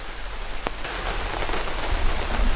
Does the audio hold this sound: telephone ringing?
no